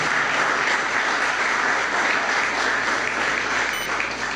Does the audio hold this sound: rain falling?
no